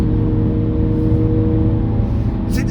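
A 1 litre car engine revs hard at full throttle on the motorway, heard from inside the cabin as a loud, constant droning whine with steady tonal harmonics and road roar throughout.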